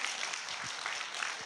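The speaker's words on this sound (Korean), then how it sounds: "박수 한번 주문해주세요." An audience at an investment lecture breaks into applause, a steady, fairly faint patter of many hands clapping throughout with no voices over it.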